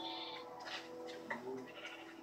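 Minecraft sheep bleating on a farm in survival mode, several short wavering bleats over game background sound, fairly close and moderately loud.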